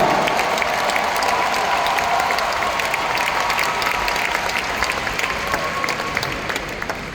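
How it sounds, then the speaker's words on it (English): Convention hall audience applauding to welcome overseas guests, a full sustained burst of clapping with scattered cheers, loud and close, gradually tapering toward the end. "Let's give them a round of applause to welcome all of them."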